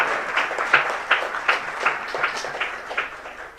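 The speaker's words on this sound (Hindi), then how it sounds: "आपकी तालियां चाहूंगा इस समय पर" An audience at a religious gathering gives a rhythmic round of applause, a group clapping in near-regular beats at moderate loudness, fairly close.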